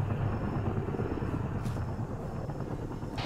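Helicopter flying away in the combat game ARMA III, a steady low rotor rumble and whine fading gradually at a moderate distance, with brief hiss bursts.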